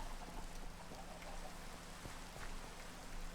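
Rain in the video game Minecraft: a faint, steady hiss of falling rain with soft scattered droplet taps, constant throughout with no voices.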